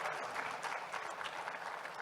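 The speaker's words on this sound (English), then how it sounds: "round of applause for the panelists once more" Audience applause for panelists at a business forum in Botswana, a dense, steady clatter of many hands clapping for about two seconds with no voices over it.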